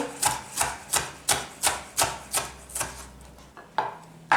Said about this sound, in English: Asian style cooking, always make sure you cut the strips